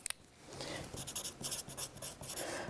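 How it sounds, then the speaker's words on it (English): Pen writing a message on a holiday pop-up card, close scratchy strokes in quick bursts with brief pauses between words. "I could write something like"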